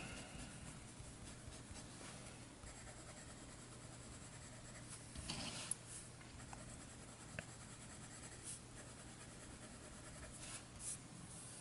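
A fine fountain pen nib scratches across paper in soft, continuous strokes with faint rustling and a few brief louder scrapes, close and quiet against a low steady background hum.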